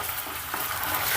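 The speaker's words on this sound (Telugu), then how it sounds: "ఈ అల్లం వెల్లుల్లి పేస్ట్ని పచ్చివాసన పోయేంత వరకు ఫ్రై చేసుకుందాం" Ginger garlic paste fries in a pan for tomato rice, a dense, steady sizzle close up that swells slightly toward the end, with no voices.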